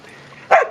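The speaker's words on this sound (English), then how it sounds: "Georgie just likes to bark at everybody." A dog gives a single sharp, fairly close bark after a quiet moment, outdoors during a game of fetch at Christmas.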